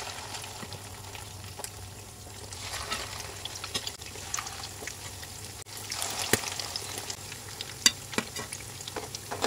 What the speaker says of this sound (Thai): ทอดมันก็พร้อมทอดแล้วนะคะ